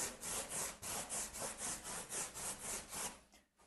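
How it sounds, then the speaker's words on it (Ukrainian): Steady back-and-forth scrubbing of a brush with water over a hard wet clay plaster surface, polishing it, about a dozen rhythmic strokes, close and loud, with no talking. "після щіткою і водою підполіровуємо поверхню."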